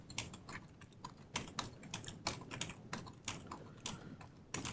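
Steady clicking of a computer keyboard as someone types quickly, rapid irregular keystrokes over a quiet background hiss, nearby but soft.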